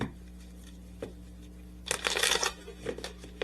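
Tarot cards are shuffled close up: a few quiet taps and slides, then a loud riffling burst of cards about halfway through, followed by softer shuffles.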